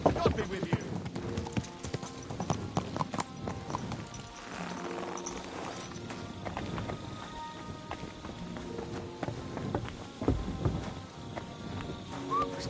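Horse hooves clip-clop at a walking pace in Kingdom Come: Deliverance II, a steady game-audio rhythm under a voice and background music.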